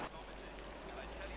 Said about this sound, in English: And we got ourselves a rain race.